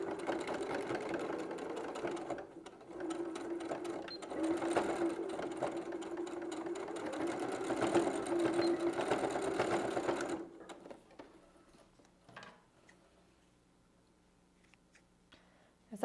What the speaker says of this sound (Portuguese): vai passar uma costura com a máquina e tá feito o acabamento